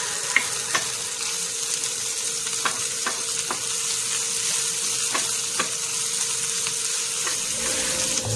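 Ingredients sizzle and fry steadily in a pan as sautéed aromatics for shrimp paste (alamang bagoong) cook, with scattered scrapes and clicks of stirring throughout and no talking.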